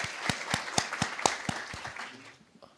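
Audience applause at an IEEE blockchain conference technical session, a handful of sharp, separate claps at a regular pace that thin out and fade into quiet.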